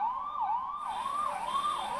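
Fire engine siren at a scrap shop blaze in Marathahalli, wailing up and down in a steady repeating cycle, loud and fairly close, joined partway through by a higher hiss, with no speech.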